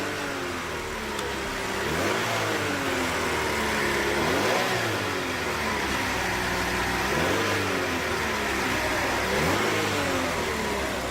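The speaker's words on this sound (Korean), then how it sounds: "엔진 시동 상태를 확인을 하시면 되겠습니다" A car engine idles steadily after a cold start, with repeated revving swells rising and falling roughly every two to three seconds, close and continuous, during a check of the starting and ignition circuit.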